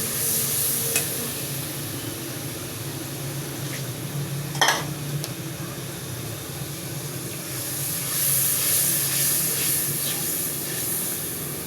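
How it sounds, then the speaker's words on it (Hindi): Turmeric and chili powder frying with chana dal in a pan, giving off a steady close sizzle and hiss, with occasional stirring clicks and a brief sharp clatter midway; no speech. "इसको भून लेते हैं"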